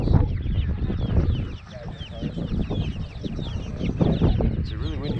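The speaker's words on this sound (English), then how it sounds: "Got some big chickens." Big chickens at an outdoor exotic bird and animal swap in Waverly, Iowa cluck continuously, close and busy, amid wind noise and people talking in the background.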